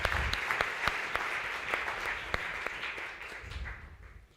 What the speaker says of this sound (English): I think they deserve a big applause